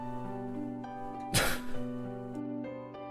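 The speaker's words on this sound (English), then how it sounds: "They sneezed so loud, what the heck?" A single loud, sharp sneeze from a neighbor cuts through steady background music and then fades quickly.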